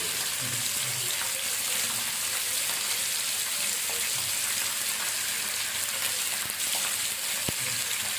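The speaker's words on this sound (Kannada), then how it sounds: "ಈರುಳ್ಳಿ ಇಟ್ಕೊತಾ ಇದ್ದೀನಿ. ಇದು ಚೆನ್ನಾಗಿ ಫ್ರೈ ಆಗಬೇಕು." Onions and green chillies fry in a pan for a green tomato chutney, giving a steady, moderately quiet hiss and crackle with a few faint taps and stirring sounds, no voices.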